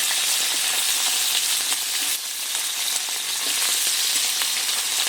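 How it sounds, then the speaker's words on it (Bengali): Three whole phasa fish fry in hot oil in a karahi, giving a loud, steady, crackling sizzle that carries on without a break. "সুন্দর করে মাছগুলো ভাজবো।"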